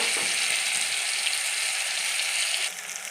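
Whole cumin, ginger paste and chili powder sizzle in hot oil, a loud steady hiss of frying that holds evenly for a few seconds before easing slightly near the end.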